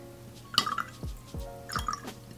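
Water dripping and trickling as indigo paint is thinned for a swatch, a few soft liquid drips and splashes in quiet surroundings with no voices.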